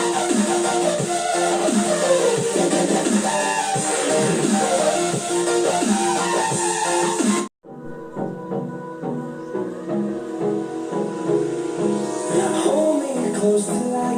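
A music sample with singing plays through the built-in speakers of a Mi 4A Pro television, continuous and fairly full, with a brief cut partway through before the song resumes.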